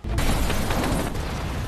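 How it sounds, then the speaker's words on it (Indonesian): A bomb blast rumbles out as a dense, loud roar that fills the whole clip and holds steady without fading, with no voices. "Seketika, bom pun meledak."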